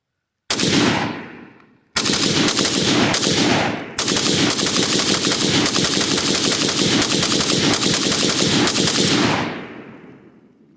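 An M1919A4 Browning machine gun loaded with steel-linked belts fires 30 rounds in semi-auto as loud, close, rapid shots. A short burst is followed by a brief pause, then a longer continuous stretch of fire that cuts off abruptly.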